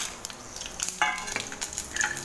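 Chana dal and green chillies sautéing in hot oil in a kadhai, a low steady sizzle with occasional scrapes and stirring clinks from a spoon against the pan.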